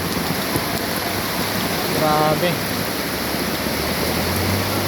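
Steady, loud rushing of floodwater entering a house fills the whole clip, a broad continuous roar with a brief voice speaking over it midway.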